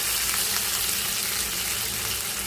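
Spice tempering with asafoetida and curry leaves fries in hot oil for gongura dal, a steady, dense crackling sizzle that stays even and close from start to end.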